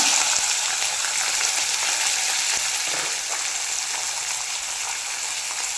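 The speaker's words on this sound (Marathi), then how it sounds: "आता मध्ये घालून घ्यायचा आहे कांदा" Chopped onion frying in a pan on high flame, alongside roasted peanuts, for leftover spiced rice. A loud, steady, hissing sizzle fills the whole stretch without pause.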